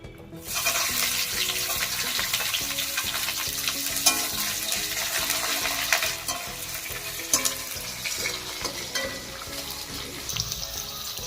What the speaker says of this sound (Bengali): এর মধ্যে এবার আমি দিয়ে দেবো পেঁয়াজ কুচিগুলো।